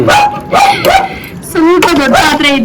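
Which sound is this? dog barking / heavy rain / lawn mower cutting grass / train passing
dog barking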